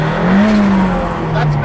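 Ford Escort Cosworth Mk1 with about 350bhp spinning its wheels, a loud sustained engine drone that climbs slightly then settles, with tire noise and a voice speaking briefly over it.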